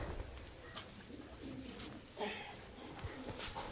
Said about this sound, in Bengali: এটা হচ্ছে অনেক পুরনো লাইনের পায়রা